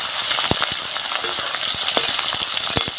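Curry leaf, chopped garlic, green chili and capsicum frying in hot oil, a loud continuous sizzle close up, punctuated by sharp pops and spatula scrapes at irregular intervals.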